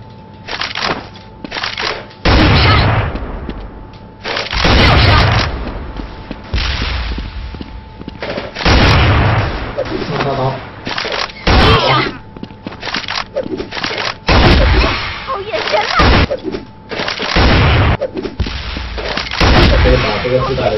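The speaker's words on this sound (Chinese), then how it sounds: "我是比较喜欢这种枪声" Rapid bursts of gunfire from a PP gun in a mobile shooter game come in repeated loud volleys separated by short gaps, with a voice talking between the bursts.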